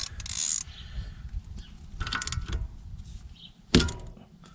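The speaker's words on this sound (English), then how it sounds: "Actually, I'll use a ratchet to loosen it up." Ratchet loosening a 19 mm bolt on a Volvo M56 manual gearbox, giving quiet mechanical clicks and metallic clanks at irregular intervals, with one sharper knock near the end; no talking.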